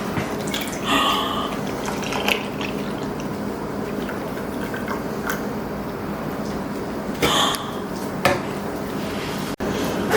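Milk poured into a container and the container handled, with splashing liquid, a few clinks of the vessel, and short bursts of pouring against steady background noise.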